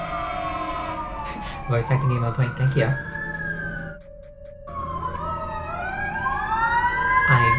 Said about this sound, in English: And there are sirens in the background